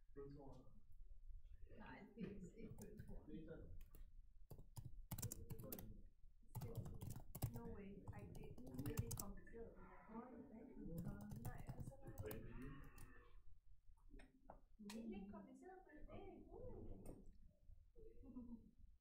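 Typing on a computer keyboard while entering SASS code, with rapid clicking keystrokes running under steady Danish speech throughout.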